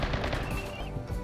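Gunfire from the colony sim game Rimworld rattles in a dense, loud rapid burst throughout the short moment.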